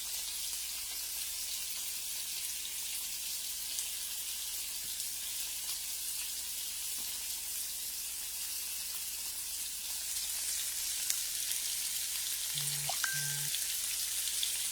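Vegetables cooking in a pot make a faint, steady bubbling sizzle that runs throughout, with a couple of brief electronic beeps near the end.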